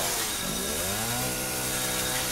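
Resident Evil 7 chainsaw revs loud and up close, its engine whine sweeping upward, then holding a steady buzzing drone, with no voices over it.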